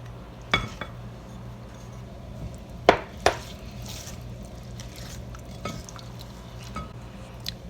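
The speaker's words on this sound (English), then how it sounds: "Give that a good mix" Carrot cake batter of vegetable or canola oil being mixed in a bowl, with a few sharp clinks of utensil against the bowl and soft scraping stirs in between, close and fairly quiet, no talking.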